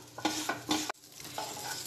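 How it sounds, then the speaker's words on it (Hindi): A spoon scrapes and stirs Bengali Radhavallabhi masala, with salt added, as it roasts in a hot pan, giving rhythmic close scraping strokes over a steady low sizzle, with no voices. "अब ये भून लेते हैं।"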